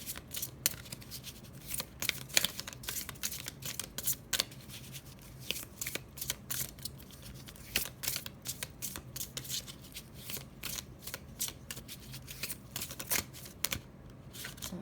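Tarot cards are shuffled by hand in quick riffling bursts and sharp flicks, close and crisp, with cards flipping and dropping onto a surface in an uneven, continuous patter.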